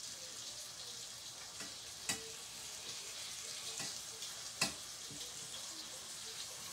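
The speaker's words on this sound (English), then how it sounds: "You love the sound of cooking in the kitchen, Valor." A faint, steady sizzle of food cooking in a pan in a home kitchen, broken by a couple of soft clinks and stirring sounds, with no one speaking.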